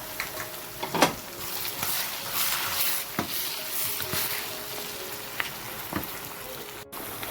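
Panch phoron spices sizzle in hot oil for a banana chilli pickle, a steady close crackle and patter with occasional louder pops.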